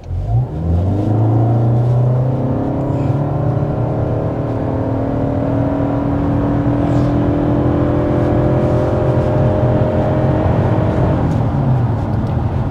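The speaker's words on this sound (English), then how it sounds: "we're going to go ahead and start with a hard acceleration, see what this hybrid system is all about" A 2025 Toyota Camry SE hybrid under hard acceleration, heard from inside: a loud, steady engine drone that climbs smoothly in pitch for about ten seconds and then levels off, with no talking.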